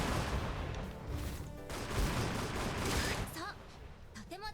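A gun fires in the video game Trinity Fusion in dense rapid volleys of sharp bursts. The shots are fairly quiet overall, and a voice talks over the end.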